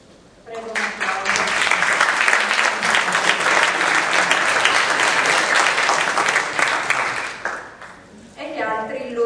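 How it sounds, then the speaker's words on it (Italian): Audience applause for the jury president, composer Fernando Sulpizzi, at the Lipizer competition final: a steady, dense wash of many hands clapping that swells in and holds for several seconds, dips briefly, then resumes near the end. "Prego un applauso."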